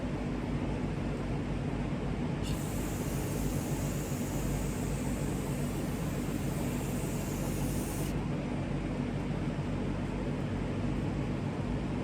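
A spray bottle hisses steadily as liquid is squirted onto a horse, the spray running for several seconds over a constant background of fan noise.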